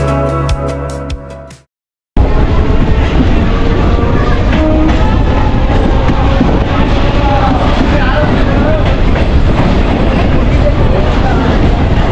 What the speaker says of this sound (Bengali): সবুজে ঘেরা প্রাকৃতিক সৌন্দর্য দেখতে দেখতে আমাদের ট্রেন কিন্তু ছুটে চললো।